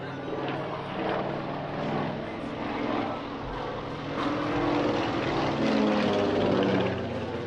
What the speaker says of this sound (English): This particular aircraft, though, is an AN-2R, which is specifically designed for agricultural use